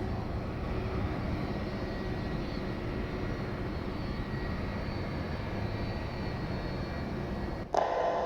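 A Boeing 757-200 jet airliner idles on the runway, its engines a steady, broad, distant roar that holds level throughout, ending in a brief bump.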